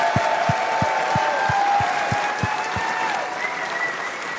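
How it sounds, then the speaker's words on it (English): Steady applause from a convention crowd at Warframe TennoCon 2025, dense clapping sustained throughout without pause. "big round of applause to the whole sound team at DE"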